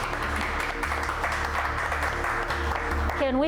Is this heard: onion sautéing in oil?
no